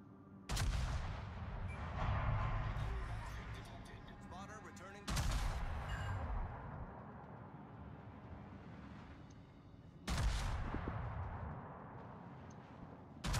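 Heavy naval gunfire from warships in World of Warships: three loud booming salvos a few seconds apart, each trailing into a rumbling decay, with a voice talking between them.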